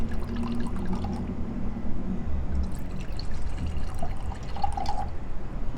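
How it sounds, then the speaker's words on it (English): White wine poured into a glass, a close steady gurgling trickle running for several seconds at moderate loudness, with no talk over it. "So we're going to give it a pour and a taste."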